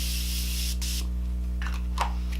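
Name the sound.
Morphe Continuous Setting Spray being sprayed on face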